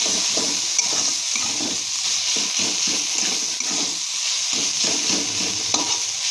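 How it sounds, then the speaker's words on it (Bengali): Pumpkin leaves fry in a pan and are stirred steadily, giving a continuous close sizzle broken by repeated scraping strokes, with no voices. "কুমড়ো শাকটা বেশ সুন্দর একটু ভাজা ভাজা হবে"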